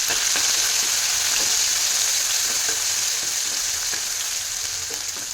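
Ginger and a small green chilli fry in hot oil with asafoetida, producing a dense, steady, close sizzle with faint stirring ticks throughout.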